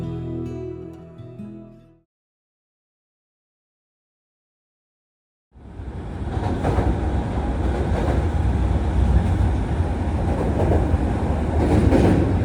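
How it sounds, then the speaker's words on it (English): An Osaka Midosuji line subway train rumbles loudly and continuously after a brief silence, with rhythmic wheel clatter and a roaring underground ride filling the rest of the clip. "boarded the Midosuji subway line northbound to Shin Osaka Station"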